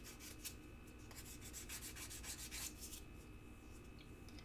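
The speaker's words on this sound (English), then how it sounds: "I'm going to hit it with some sandpaper, just to give it a really nice refined edge" Sandpaper rubbed by hand along an edge, giving a steady dry scratchy rasp in repeated short strokes, close and fairly quiet, with no talking.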